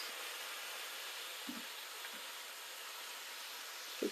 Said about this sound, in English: now that you can hear it starting to sizzle